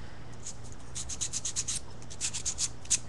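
Dust cloth rubbing sanding dust off a paper scrapbook layout, heard as soft repeated swishing strokes in short bursts, close and fairly quiet, with no talking.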